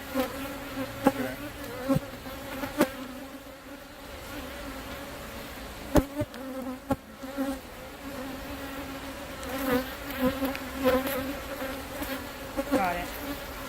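Bees buzz close by during a sting, a steady insect drone with sharp clicks and bumps throughout, no talk.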